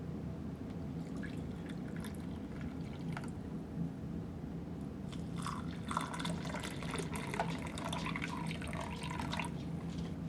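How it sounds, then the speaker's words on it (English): Hot water poured into cups of English breakfast tea and coffee for a UK 24-hour ration pack breakfast, a steady liquid pour and trickle with soft drips, close and fairly quiet, with no talking. "Add some hot water to these and let them do their thing."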